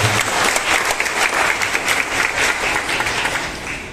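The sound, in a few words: audience applause at award ceremony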